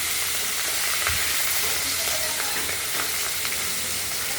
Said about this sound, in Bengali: পরবর্তী মাছ তিনটা দিয়ে দিলাম ভাজার জন্য, ঢাকা দিয়ে দিলাম